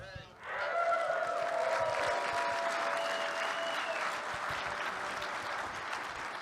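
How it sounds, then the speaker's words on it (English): Huge round of applause from a conference crowd at the ShmooCon 2025 closing remarks, a dense, steady wash of clapping that swells quickly and holds loud for several seconds, with a faint tonal hum running underneath. "so you just got a huge round of applause"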